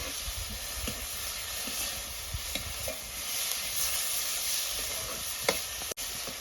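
Chopped capsicum and tomatoes frying lightly in a pan give a steady close sizzle and hiss with soft stirring scrapes and one sharp clack near the end.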